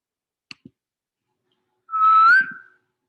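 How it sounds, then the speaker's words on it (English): Two quick soft clicks, then a single clear whistled note that rises slightly and holds for about a second before fading. "That was a whistle."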